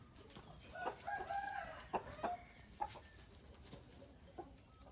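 A Burmese fighting rooster, a young cockerel weighing about 2.5 kg, gives a few scattered clucks and short partial crowing calls over a steady hiss of farmyard background, fairly distant and moderate in level.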